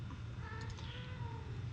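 A house cat meows faintly indoors, a brief plaintive call over a low steady room hum.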